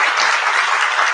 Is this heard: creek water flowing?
no